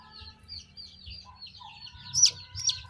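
Chicks in a hatchery on harvest day peep and chirp in a soft, busy chorus, with a couple of sharper, louder cheeps near the end over a low background rumble.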